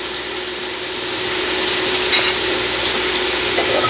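Osso buco beef shanks simmer in a pot, giving a steady close bubbling sizzle that swells slightly after the first second and holds evenly with no voices.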